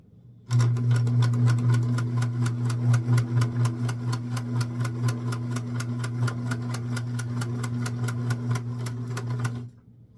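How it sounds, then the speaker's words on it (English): A sewing machine stitches the back seam of a doll's skirt, starting abruptly and running as a close, steady rapid clatter with a humming motor for about nine seconds before stopping suddenly. "you're going to sew up the back, leaving enough room for the doll to get in."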